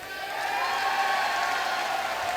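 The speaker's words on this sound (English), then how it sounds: "The crowd's clapping." A hockey arena crowd claps in a sustained, even wash that swells slightly after the start, heard from a distance with no clear talk over it.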